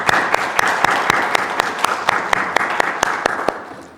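A church congregation applauding fathers during a Sunday service, a dense round of clapping with some sharp individual claps standing out, fading toward the end.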